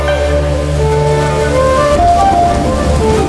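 Heavy rain pouring down around a temple in a horror setting, a steady, loud hiss of rainfall mixed with a low sustained musical drone, continuous with no pauses.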